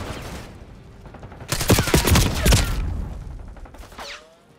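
Bursts of rapid gunfire and explosive blasts from a Black Ops 6 multiplayer match on the Rewind map, loud and dense through the middle with sharp shots tailing off toward the end.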